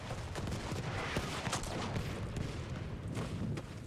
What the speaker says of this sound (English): this artillery is trying to kill me.